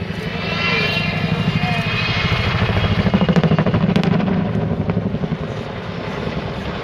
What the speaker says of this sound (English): That's such a distinctive sound, the blades of the twin rotors